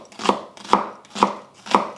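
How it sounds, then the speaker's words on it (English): A knife cuts a shallot into strips on a cutting board, giving four crisp, evenly spaced chops about half a second apart, close and clear with no talking. "I'm just going to cut this into strips."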